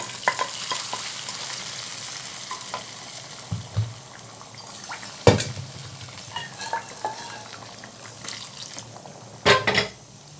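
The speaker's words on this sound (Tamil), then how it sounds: "நல்லா குழம்பு கொதிச்சு வந்துட்டுருக்குது" Pot of kara kuzhambu curry with dried anchovy and cowpeas bubbling on a gas stove, soft continuous simmering and sizzle with occasional spoon stirs and clinks, close and alone without talk.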